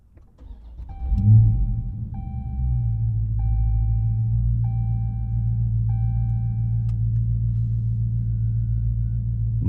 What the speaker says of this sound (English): Nice, powerful startup.